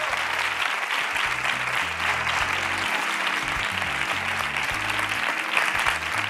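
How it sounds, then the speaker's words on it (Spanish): A studio audience applauds loudly after a live performance, a thick continuous wash of clapping with low tonal music underneath throughout. "Un aplauso fuerte."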